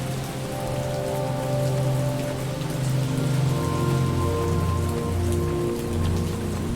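Steady rain pattering on surfaces in a video game, a dense even hiss of drops with a low droning hum beneath, constant and alone throughout.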